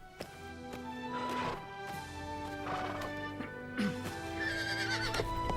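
Horses whinny loudly several times, their shrill neighs rising over a rumble of hooves and general commotion, with no speech.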